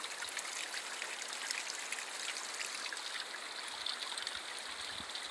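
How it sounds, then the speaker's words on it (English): Cold, clean spring water trickling out of a mountainside at Castle Crags, a steady bright splashing wash heard up close with no voices. "You don't see a lot of spots where like the water comes out of the side of the mountain like that clean and cool"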